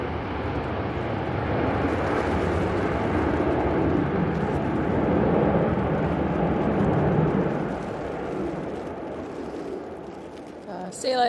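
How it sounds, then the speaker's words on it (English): An airplane landing at Manchester Airport during storm winds: a loud, steady engine and wind roar holding for most of the span, easing toward the end before a sudden gusty burst, with a voice speaking over it. "Firm but good landing."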